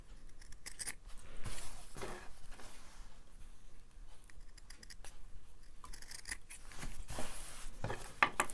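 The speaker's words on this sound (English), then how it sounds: "snip the corners just a little bit, but you don't want to cut into your stitching" Scissors snip the corners of sewn fabric for a three-layer face mask. Several short, close cuts are spread across a quiet room, with faint handling between them.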